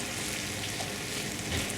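Cabbage being stirred in a hot pan for pancit bato guisado, giving a steady, close sizzle with soft scraping from the stirring and no talk.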